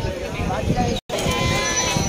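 Goats bleating at a Bakra Eid animal market, loud nearby bleats among a crowd with people talking over them.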